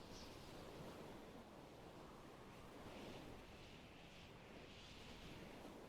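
Large ocean waves in the game Stormworks wash and surge steadily in deep water under strong wind, a continuous broad roar with swelling rises and no voices.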